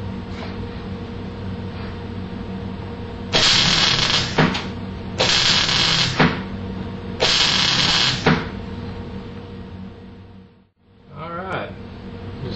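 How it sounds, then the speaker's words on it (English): Grinding on metal bodywork of a 1979 El Camino: three loud bursts of a power grinder, each a second or so, between quieter shop noise and a low hum, heard close. "Just have to grind that down"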